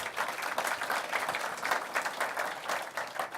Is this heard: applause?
yes